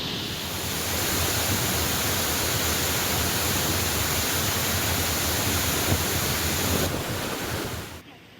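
Floodwater rushes through a street near Courtallam waterfall, a loud, continuous broadband roar that holds steady for several seconds before cutting off abruptly, with no voices.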